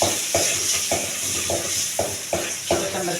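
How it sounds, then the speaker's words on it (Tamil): Mustard seeds splutter in hot oil as a tempering for a Nellai-style brinjal kadayal, with a steady bright sizzle broken by sharp popping bursts about every half second, close and fairly loud. "கடுகு பொரியுது"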